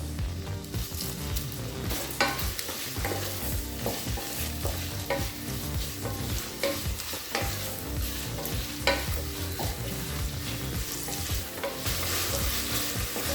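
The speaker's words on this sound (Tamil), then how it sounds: "இப்போ தக்காளி நல்லா வதங்கிடுச்சுங்க" Tomatoes sautéing with salt in a pan for vegetable biryani give a loud, continuous sizzle, broken by the frequent scrape and clatter of stirring, close up and uninterrupted.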